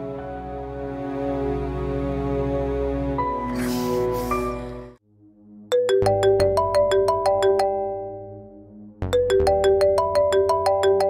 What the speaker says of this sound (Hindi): ये फोन क्यों नहीं अटेंड कर रहा मेरा?